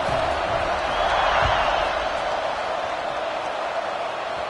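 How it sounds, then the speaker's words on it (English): Football stadium crowd at an LSU versus Nebraska game after a score, a dense continuous roar with some whoops and claps, loud and sustained, with a voice talking underneath. "this crowd is buzzing after that last score"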